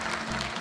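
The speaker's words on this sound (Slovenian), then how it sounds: "Zasluži, da si prav gotovo en aplavz." Brief burst of steady audience clapping at a family music trio's stage performance, a dense wash of many hands heard close.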